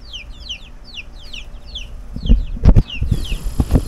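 Hens settling into a new coop with their chicks give a steady run of high peeping chirps, then louder clucks and rustling close by toward the end.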